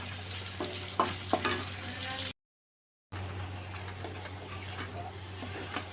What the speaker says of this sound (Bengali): এখানে মাংসটা লাল করছি, একটু ভাজা ভাজা হয়ে যাবে